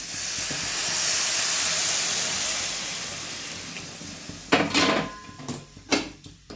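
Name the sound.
hot water poured on fried semiya coconut punugulu, boiling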